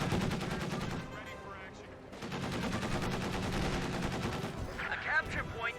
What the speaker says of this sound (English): And M1 AT guns fire really quickly